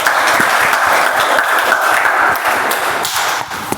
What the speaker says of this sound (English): a big round of applause to our presiding officer